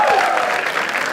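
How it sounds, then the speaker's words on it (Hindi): A studio audience at a comedy talent show claps loudly in a dense, continuous burst of close, full-room applause. "एक बार जोरदार तालियां फॉर डॉक्टर पार्थ सुनील घाटे।"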